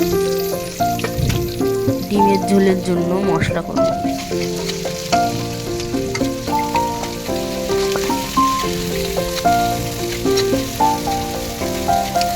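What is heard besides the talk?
onions frying in a kadai with cumin, dried chilli, bay leaf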